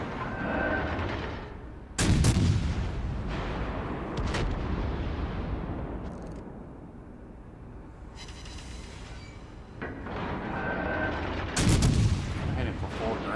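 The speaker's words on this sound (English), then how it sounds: "Oh, he's shooting at me." Heavy naval cannon fire in an online warship battle game, with a cruiser in the fight: loud booming blasts near 2 s and 11.5 s over a constant rumbling battle bed, a few smaller reports in between, and faint talk underneath.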